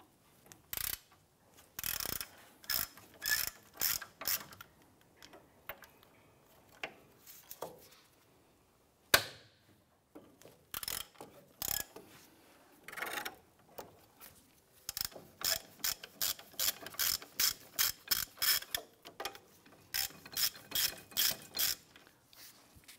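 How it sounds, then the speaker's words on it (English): A ratchet clicks in repeated rapid bursts while loosening two 15mm brake caliper bracket bolts on a 2005-2007 Ford 500, close and crisp with short pauses between strokes. "There are 2 bolts here, 15mm, holding our brake caliper bracket to the knuckle."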